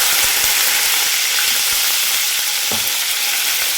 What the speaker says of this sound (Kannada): ಇವಾಗ ಕರ್ಬೇವಿನ ಸೊಪ್ಪು ಹಾಕ್ತಾ ಇದ್ದೀನಿ